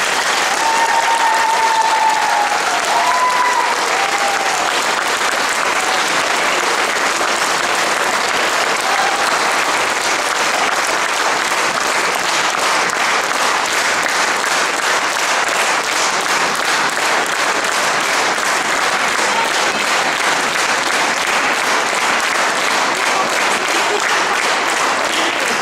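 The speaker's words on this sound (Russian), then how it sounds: "давайте еще раз поаплодируем эту музыкальную" Audience at a classical concert of Mussorgsky's Pictures at an Exhibition gives loud, sustained applause, a dense even roar of many hands with a brief voice near the start.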